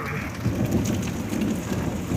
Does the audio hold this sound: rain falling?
yes